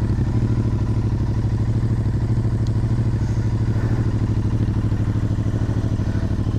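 A Royal Enfield Interceptor 650 twin with a 2-into-1 Stinger exhaust idles and runs in a steady, loud, close throb, its even low pulsing beat unbroken throughout.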